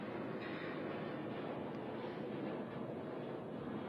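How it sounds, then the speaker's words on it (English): Steady broadband roar of an airplane passing overhead during an outdoor ceremonial event, a continuous loud rumble that fills the whole stretch without letting up. "I'll give the airplane a moment to go by."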